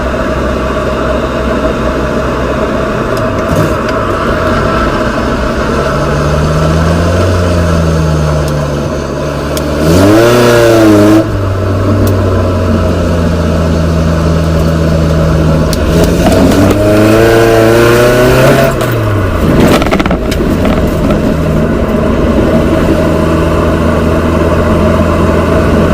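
A Nissan 240SX S13 cruises at highway speed, its engine loud and close with a steady drone, rising and falling in pitch as it revs through gear changes around the middle of the run.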